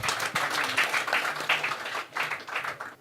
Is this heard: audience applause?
yes